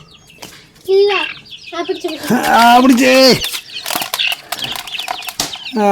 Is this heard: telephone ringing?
no